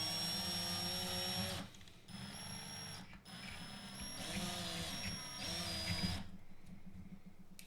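Desktop printer running with whirring stepper motors that rise and fall in pitch, pausing briefly between passes before stopping near the end; steady and fairly close, with no talking.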